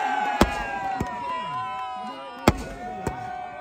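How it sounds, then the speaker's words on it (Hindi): Fireworks go off at a kite-flying competition's final celebration, four or five sharp bangs spaced irregularly over a noisy crowd, with loud talking and shouting throughout. "आतिशबाजी हो रही है"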